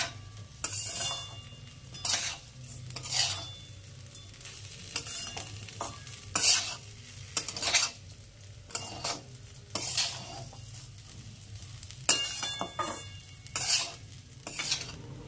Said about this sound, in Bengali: চাল মোটামুটি ভাজা হয়ে গেছে